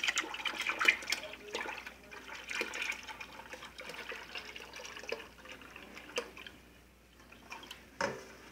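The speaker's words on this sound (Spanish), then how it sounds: "vamos a echar todo el licuadorazo de lugma." Blended lucuma pulp is poured into four litres of water, giving a sloshing, splashing liquid pour with irregular bursts that ease off, then a short splash near the end.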